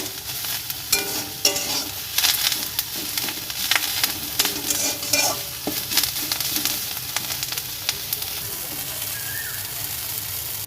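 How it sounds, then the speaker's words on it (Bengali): Neem leaves frying in oil in a pan, a steady close crackle and sizzle with irregular stirring scrapes, faint birdsong in the background. "নিম পাতা ভাজা গেছে"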